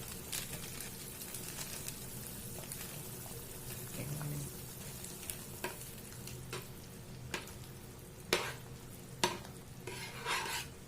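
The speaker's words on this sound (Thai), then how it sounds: "แล้วก็สิปล่อยไว้มันเดือดสักพักหนึ่งเด้อพี่น้อง" Fish curry boils in a pot with a low, steady bubbling hiss and occasional sharp pops and ticks, faint and close, with no voices.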